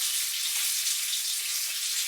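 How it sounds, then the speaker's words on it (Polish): Vegetables frying in a pan, giving a steady, close sizzle that hisses without a break for the whole moment, with no talking. "No i tak sobie teraz tu smażę te moje warzywa."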